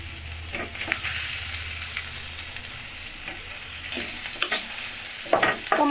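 Diced tomatoes stirred into frying spice masala in a pan for a rohu fish curry with cauliflower and potato, a steady sizzle under repeated spoon scrapes, close and moderately loud, no talking.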